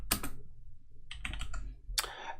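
Close, crisp keystrokes on a computer keyboard while working in Houdini come in a few quick bursts with short pauses between them, in a quiet room.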